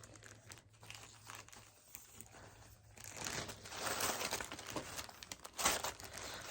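A green plastic bag crinkles and rustles close by, quiet at first and then louder and busier in the second half, with no talking.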